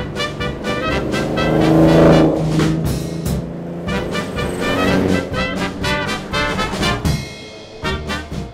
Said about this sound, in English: join up with Simon Cundey, as he was also driving down to Goodwood in his own classic Fraser Nash